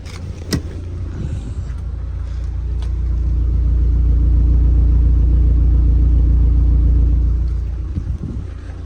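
A Mk1 Audi TT engine idles with a low, steady rumble close by, swelling slightly louder in the middle before settling back, with no one talking.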